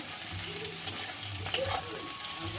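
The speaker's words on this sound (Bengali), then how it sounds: "উল্টে পাল্টে ভেজে নিতে হবে" Cauliflower pakora sizzling in hot oil while being turned over, a close, even crackle with brief scraping stirs and light clinks.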